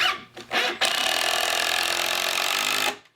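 A power drill drives a screw into a wooden sawhorse plank. A couple of short revs come first, then one loud, continuous whirring drive of about two seconds that ends sharply, close up with no voices.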